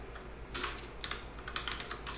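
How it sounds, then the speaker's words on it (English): Typing on a computer keyboard produces quick, close clusters of clicking keystrokes in bursts over a quiet, steady background hum. "I'll just type it out."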